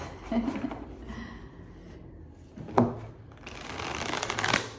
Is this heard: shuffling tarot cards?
yes